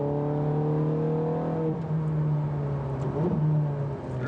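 A sports car engine revving to 6000 rpm, a close, loud and steady drone that shifts slightly in pitch partway through, with no speech over it.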